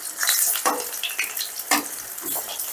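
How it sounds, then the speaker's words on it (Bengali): Chana dal lentil fritters frying in hot oil while being flipped over, a bubbling sizzle broken by a few sharp scraping clinks of a spatula turning them, close and without talk. "গ্যাসের আঁচটা মিডিয়ামে রেখে বড়াগুলো কিন্তু এভাবে উল্টে পাল্টে বেশ লাল লাল করে ভেজে নিতে হবে।"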